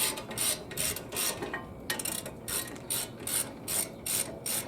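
A regular ratchet clicks rapidly in short rhythmic bursts, about ten in a row, while turning bolts on the front brake caliper bracket of a 2013 Dodge Charger 5.7 HEMI RWD, close and distinct over a low background hum.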